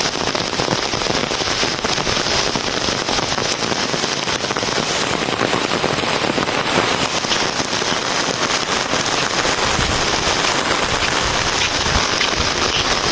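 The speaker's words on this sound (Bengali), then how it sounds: "বৃষ্টি আর বৃষ্টি" Steady rain falling during an overcast day in rural Bangladesh, a dense, continuous hiss of drops hitting surfaces with scattered crackles, even and fairly close throughout with no voices.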